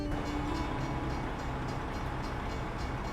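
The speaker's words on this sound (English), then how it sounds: "Oh, I hear a train." A train rumbles past in the trucking game American Truck Simulator, a dense continuous low roar with a faint horn tone near the start, loud and steady without any talk.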